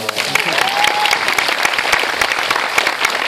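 Crowd at a Rémi Gaillard show in Narbonne applauding loudly and densely, a continuous close wash of many hands clapping for the full three seconds.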